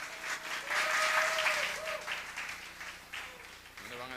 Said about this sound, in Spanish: ¿Y no le van a dar un aplauso a Jesús?